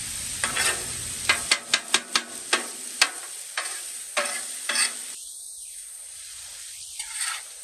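80-20 ground beef sizzles as it browns, with a spatula tapping and scraping the pan in a quick series of sharp knocks over a steady fry hiss, which then drops off to near quiet.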